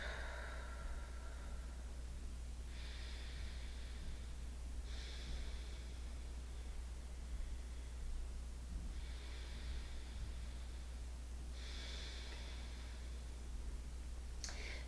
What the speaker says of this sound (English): And breathing in and out.